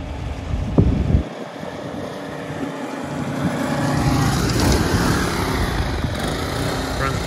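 A Lorinser 500SL mini go-kart engine revs outdoors and shifts into second gear. The engine drone builds steadily under wind noise and a few brief voices.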